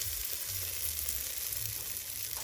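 Continuous close hiss and crackle of gobindobhog rice frying in a pan with whole garam masala, a bright steady sizzle with faint low stirring scrapes beneath.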